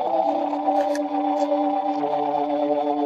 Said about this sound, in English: And the horn cue sounds like this.